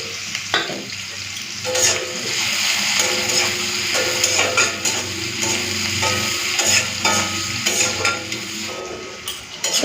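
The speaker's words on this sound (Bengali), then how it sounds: "পেঁয়াজটা লাল করে ভেজে নিয়েছি আদা রসুন শুকনো লঙ্কা বাটাটা দিয়ে দিলাম" Onions and a paste of ginger, garlic and dried chili fry in an iron wok, a steady loud sizzle broken by repeated scraping stirs of a utensil against the metal, with no voices.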